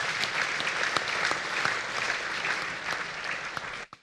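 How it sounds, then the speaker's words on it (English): A church congregation claps together in worship, steady and fairly loud for several seconds before stopping abruptly. "Clap for Jesus Christ."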